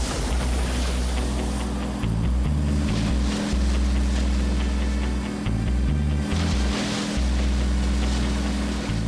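A motorboat runs at sea on the Atlantic Ocean, a steady low engine drone with wind and rushing water that lasts throughout, mixed with rising and falling music.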